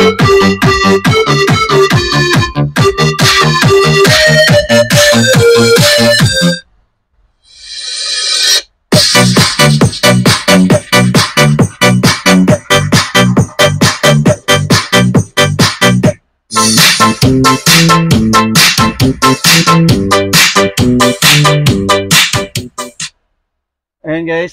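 Music with a steady beat, bright synth melody and vocals plays loudly through a Stellar PX-1560R portable speaker, with two short silent gaps and a brief dropout near the end.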